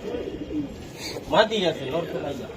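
Giribaj racing pigeons give short, soft coos nearby in a loft, brief throaty calls mixed in with a person talking.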